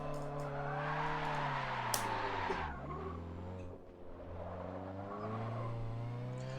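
A tuned front-wheel-drive car in Forza Motorsport 7 revs hard, the engine note rising and falling in sustained sweeps with a brief tire squeal, loud and close, with no talk over it.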